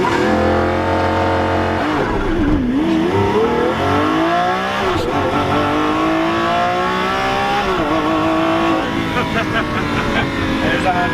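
A Lamborghini launching hard in thrust mode, its engine roaring loudly and climbing through the gears in rising sweeps, close and sustained, while people talk over it.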